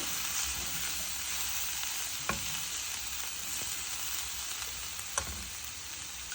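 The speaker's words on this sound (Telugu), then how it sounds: "మనకు ఫైనల్గా ఒక 2 స్పూన్ల పుట్నాల పౌడర్ వేసి వేయిస్తున్నాను." Small bitter gourd fry sizzles in a pan with two spoons of roasted gram powder, a steady close hiss with a couple of faint spatula clicks, and no talk.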